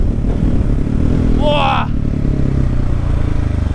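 Husqvarna 701 motorcycle engine running hard on a test ride, a loud, steady low drone that fills the whole stretch, with a rider briefly exclaiming over it.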